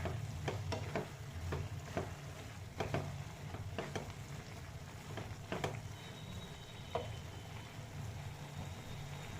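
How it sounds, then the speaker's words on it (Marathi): Milk being stirred into carrot halwa in a pan, with a soft continuous sizzle and bubbling under repeated scraping strokes of a spoon against the pan, fairly close and moderately quiet. "1 कप दूध थोडंसं मिक्स करून घ्या."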